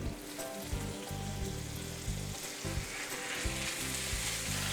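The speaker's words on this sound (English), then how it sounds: "I'll put in the Yes. bacon." Bacon fries in a pan, a dense, steady sizzle and crackle heard up close, with a low rhythmic hum pulsing underneath.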